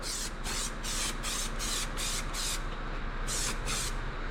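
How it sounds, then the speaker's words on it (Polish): A spray paint can sprays black paint onto KTM motorcycle plastics in short repeated hissing bursts, about eight evenly spaced pulses with brief gaps, close and fairly loud over a steady low background hum. "Trochę chlapie z tego sprayu."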